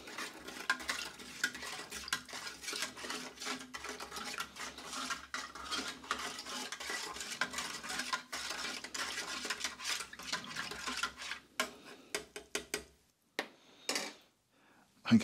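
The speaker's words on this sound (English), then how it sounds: "Give it a stir." Spoon clinks and swirls against a plastic pouch or cup while stirring an MRE lemon lime drink mix, a steady scraping rattle that trails off into a few separate taps near the end.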